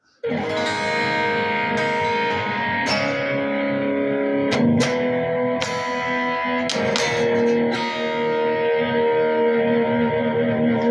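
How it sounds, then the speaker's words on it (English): A sustained electric guitar, a Kramer Pacer Classic, rings out with about 40% reverb, chords blending and trailing into one another, with a few sharp picked accents along the way. "I do have a little bit of reverb going on."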